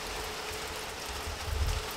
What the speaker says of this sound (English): It's raining right now. I know you guys can hear that.